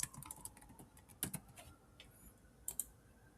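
Sparse, quiet keystrokes on a computer keyboard as a movie title is typed: light clicks in small bursts over a low background.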